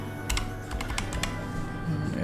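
Computer keyboard keys pressed during Photoshop work: a few scattered clicks and quick taps over a steady low background hum, close and moderately loud, with no talking.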